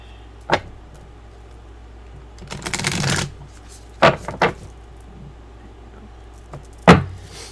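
Tarot cards being shuffled, a riffle of papery flutter in the middle, with a few sharp taps and knocks of the deck before and after, close by.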